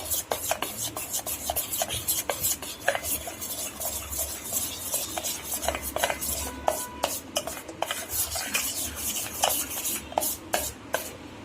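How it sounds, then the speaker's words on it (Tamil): A spoon scrapes and stirs through gram flour batter mixed with Eno in a bowl, giving a close, steady run of rhythmic rubbing and rasping strokes throughout, with no talking. "ஈனோ சேர்த்துட்டு நல்லா மிக்ஸ் பண்ணிக்கோங்க."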